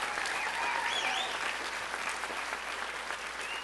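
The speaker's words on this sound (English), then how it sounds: "Give her a round of applause." A round of steady audience applause in a College of Charleston lecture hall, a dense, even wash of many hands clapping, heard alone at moderate distance for several seconds.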